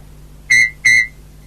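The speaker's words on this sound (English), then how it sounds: "When you hear Thomas whistle, turn the page." Two short, bright toy train whistle toots in quick succession, clear and close, with quiet around them.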